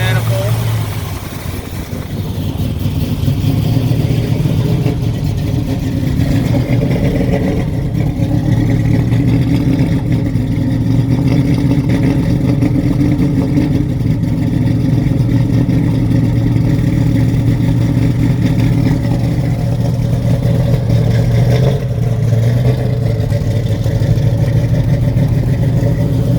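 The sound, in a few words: 1972 Chevrolet C10 pickup 383 stroker engine running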